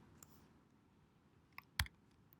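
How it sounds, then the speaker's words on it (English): A few sparse computer keyboard keystrokes click in a quiet room, one faint tap followed by a sharper, louder click near the end. "So as I'm typing this in"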